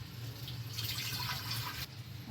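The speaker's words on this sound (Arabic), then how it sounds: "انا عندي هنا حله احط فيها ميه" Tap water running and pouring into a cooking pot set out for boiling pasta in a home kitchen, a steady close splashing fill with a low hum underneath, no talking.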